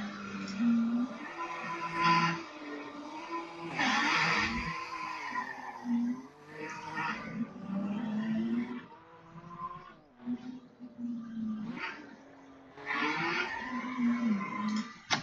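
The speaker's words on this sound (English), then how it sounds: "and then the car lost control and did this. This is the snap oversteer." A car in a driving game snaps into oversteer and spins, its engine revving and dropping in uneven surges while tyres squeal through repeated bursts, moderately loud and with no speech.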